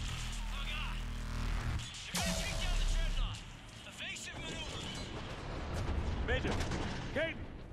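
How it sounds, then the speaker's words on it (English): Heavy gunfire and explosions in the Mass Effect 3 Legendary Edition video game, with bursts and booms clustered in the first few seconds, then continued battle noise and sci-fi weapon sounds mixed with game voices and music. "Taking heavy fire."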